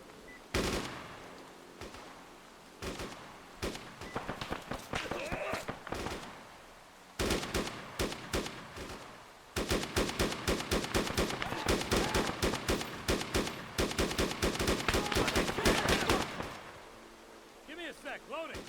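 Sustained gunfire fills a battle in the video game Arma 3: scattered shots at first, then long rapid automatic bursts crackling densely and loudly, with voices heard faintly between volleys.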